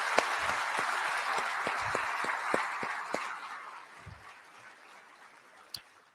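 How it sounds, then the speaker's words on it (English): An audience at a city's State of the City address applauds the police chief, a dense wash of clapping with a few sharp individual claps that gradually thins and fades out. "Let's give Chief a big round of applause."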